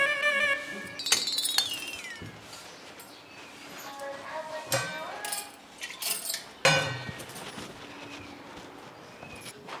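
Drinking glasses clink together several times in a domestic scene, bright ringing taps scattered over about ten seconds with a few sharper clatters, close by and fairly quiet.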